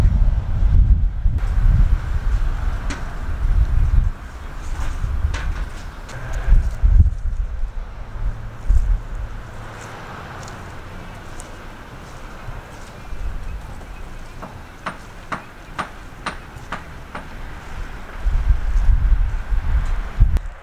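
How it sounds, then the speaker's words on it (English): Strong gusts of wind buffet the microphone in heavy low rumbles that rise and fade, with rustling and scattered clopping or tapping sounds between gusts. "There are huge wind gusts."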